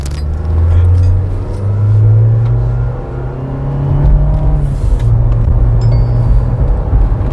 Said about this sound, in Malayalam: So we R driving Thar റോക്സിൻ്റെ ഏറ്റവും പുതിയ സ്റ്റാർ എഡിഷൻ.